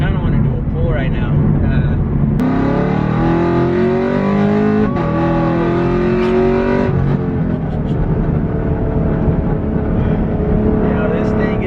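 A 2017 Chevrolet Camaro 2SS accelerates hard through a pull, the engine note rising loudly through the gears with a shift change partway. Someone talks over the engine at the start.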